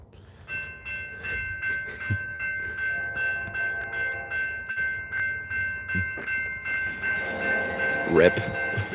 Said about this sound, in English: That's a nice horn